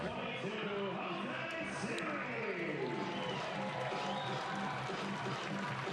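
A large crowd at a Baltimore Orioles at Tampa Bay Rays spring training baseball game makes a steady, distant murmur of chatter and movement, broken by faint scattered cheers and people talking.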